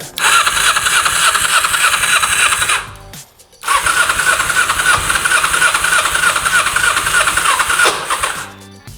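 A 22-year-old Kawasaki Ninja 250 motorcycle with 52 miles, run off a battery charger starter, cranks loudly and steadily for about three seconds, pauses briefly, then cranks again for several seconds. No one speaks.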